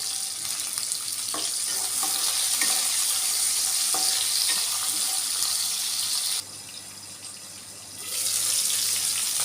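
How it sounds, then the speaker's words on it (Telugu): Chopped onions and green chilies sizzle steadily in hot oil in a pan for aloo palakura, a loud, continuous hiss with occasional stirring clinks that briefly drops quieter before resuming. "ఉల్లిగడ్డలు ఇలా ఉడికితే సరిపోతుంది, ఎక్కువ ఉడకొద్దు"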